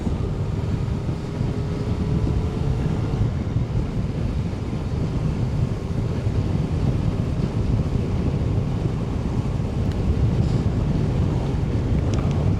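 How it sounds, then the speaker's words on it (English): Steady, heavy wind buffeting roars against the rider during a Yamaha Tracer 900 motorcycle ride through open countryside on Barnsley back roads, a continuous low rumbling rush with no speech. "Nice weather today, but it's still a bit bloody windy."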